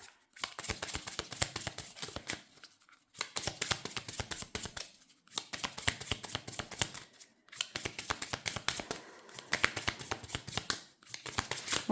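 Tarot cards being shuffled by hand, repeated bursts of riffling and crisp flicks in several rounds separated by short pauses, close and alone.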